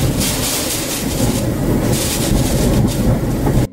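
Hurricane Beryl's storm winds in Texas make a loud, continuous roar, with hissing gusts rising and falling throughout before it cuts off abruptly.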